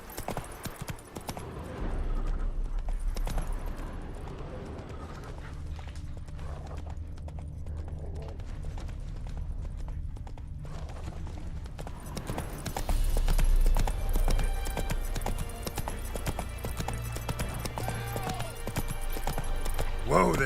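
Roach the horse in The Witcher 3 gallops with a steady, rhythmic clip-clop of hooves that grows louder partway through, over game music and ambience.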